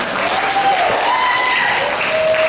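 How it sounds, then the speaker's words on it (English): Steady applause from a panel discussion audience fills the whole stretch, dense and even, with a few faint tonal whistles riding over the clapping. "Give another round of applause."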